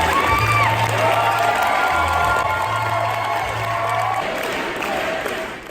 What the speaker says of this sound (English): They vigorously applauded her every line